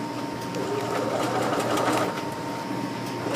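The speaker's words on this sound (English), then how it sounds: "you are stitching the seam allowance to the lining so that it will hold it away from the sheer part" A sewing machine runs a steady, continuous whir at close range, understitching the seam allowance onto the lining of a ruffle sleeve, with no pauses and no talking.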